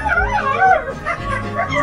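A dog whimpers and whines in wavering, rising and falling cries, close and fairly loud, with no talking.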